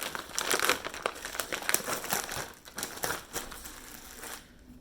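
Close crinkling and crackling of plastic packaging being pulled open, dense rustle with sharper crackles over several seconds before fading out, no talking.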